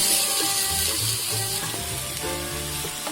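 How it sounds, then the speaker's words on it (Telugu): Chopped onion, ginger and garlic fry in a pan for veg cabbage manchurian, a loud, steady close sizzle with light stirring movement throughout and no voices. "ఇలా దోరగా వేయించుకోండి"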